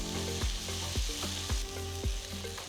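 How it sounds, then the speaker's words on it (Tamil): Onion, red chilies, a small piece of tamarind and a chopped tomato sizzle in a pan, with a steady frying hiss broken by regular scraping stirs about every half second; no voices. "இதில் 6 சிவப்பு மிளகாய், சின்ன துண்டு புளி, நறுக்குன ஒரு பெரிய தக்காளி சேர்த்து நல்லா வதக்குங்க"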